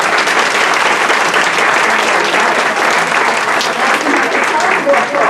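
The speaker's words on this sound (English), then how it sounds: "They already applauded automatically" Audience applause after a priest is introduced as retreat master at a Catholic women's retreat, a dense, steady wash of clapping from many hands that carries at full strength through the whole stretch.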